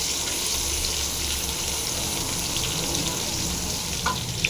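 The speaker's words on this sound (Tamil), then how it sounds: "இது இடித்த பூண்டு பூண்டை போட்டு நல்லா ஃப்ரை பண்ணிடலாம்" Crushed garlic fries in hot oil already popping with mustard seeds, giving a dense, even sizzle with a faint low hum, close and continuous, and a small clink near the end.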